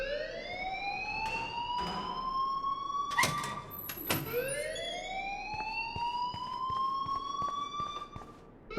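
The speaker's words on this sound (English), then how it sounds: "please turn off that alarm since that's your job." A blaring siren-like alarm from the Life is Strange video game sweeps upward and holds in repeated rising wails, loud and continuous, broken briefly by a couple of sharp bangs midway.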